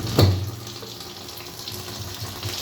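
Water pours steadily into a washing machine drum as it is refilled for another rinse during its first use, a continuous close rush with a brief louder splash near the start.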